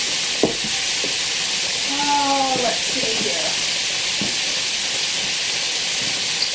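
Steady sizzling of food frying in a pan, a constant hiss throughout with a few clinks of utensils, while someone speaks briefly over it.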